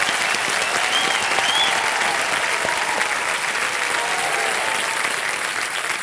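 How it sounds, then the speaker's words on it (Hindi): Loud, dense applause from a television quiz show studio audience fills the whole stretch evenly, sustained clapping without a break. "जोरदार तालियां।"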